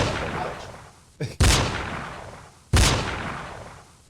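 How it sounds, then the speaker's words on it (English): Two loud gunshots ring out about a second apart, each with a long echoing tail, preceded by a brief mechanical click. "gunshots."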